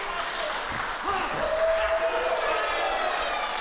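A crowd at an AUS Pro Wrestling event applauds and cheers in a steady, dense wash of clapping, with a faint voice briefly audible within it.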